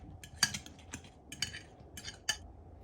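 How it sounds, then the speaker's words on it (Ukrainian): A utensil clinks against a bowl a few times while capers, onion and pickles are stirred for tartare, quiet and close, with soft scraping between the sharper taps. "Та ретельно все перемішуємо."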